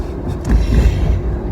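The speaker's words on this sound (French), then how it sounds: "Enfin, il y a le bruit de la voiture." Steady low road rumble and engine drone inside a moving car, loud and close, swelling slightly midway with no talking over it.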